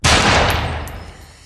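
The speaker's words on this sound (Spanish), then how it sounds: "se escuchó un solo disparo." A single loud gunshot inside a building during a shooting, a sharp close blast followed by a long echoing decay that rings out for over a second, alone without talk.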